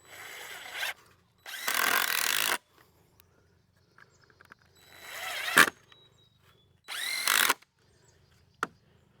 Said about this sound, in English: Just run a screw in each end just to kind of help keep it rigid.